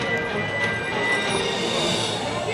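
A Sierra ride train at Chessington rumbles steadily as it departs the station, with a broad continuous roar and faint high squealing, loud and close throughout.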